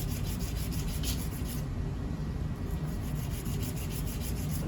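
A metal sample surface rubbed down with sandpaper in a steady, close, continuous scratchy hiss with a faint repeating stroke rhythm, no voices over it.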